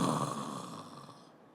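A voice imitates another man snoring, producing a single drawn-out, rasping breath that fades away.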